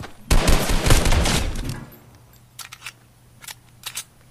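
One quick burst of rapid gunfire in Fortnite lasts about a second and a half and fades out, followed by a few faint clicks and taps.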